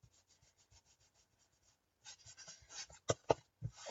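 Ink is rubbed onto the edges of a steampunk card for rusty shading, with light rhythmic dabbing at first, then firmer, louder rubbing strokes close by.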